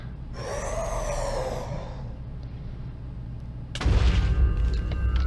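The Wither boss in Minecraft makes loud, breathy, rasping noises, a long raspy wail and then a sudden louder roaring burst with a low rumble, close and continuous.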